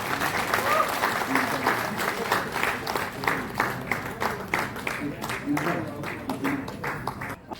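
Rhythmic, fairly loud clapping from journalists at an association meeting in Raipur runs in a steady pulse, as if clapping in unison, with voices talking over it.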